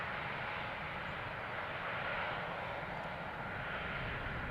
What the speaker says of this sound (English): In the distance we see an A350 from Delta Airlines taxiing to the runway threshold